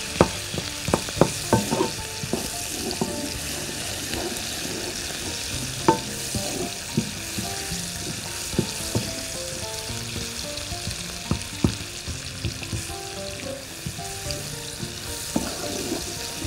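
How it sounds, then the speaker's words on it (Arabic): Onions sizzle and fry in a pot as they are stirred, a steady close crackle broken by sharp clacks and scrapes of a utensil against the pot. "هو والبصل، نقلبهم مع بعض."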